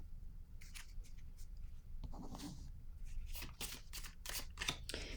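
Tarot cards are shuffled and drawn from the deck, giving close, crisp bursts of flicking and sliding card noise in uneven clusters, busier toward the end, with no talking.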